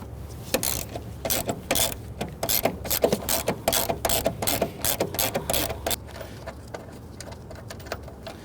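A ratchet spinning a bolt out of a seat rail in a 2011–2017 Nissan Quest minivan, a close, rapid run of clicking ratchet strokes for about six seconds, then quieter handling noise.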